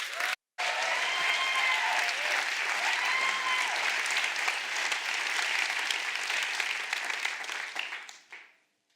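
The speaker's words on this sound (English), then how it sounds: "Let's give him a loud, rowdy round of applause." Audience applause at a world forum event, a dense, loud wall of clapping that starts abruptly, holds steady for several seconds, then fades out.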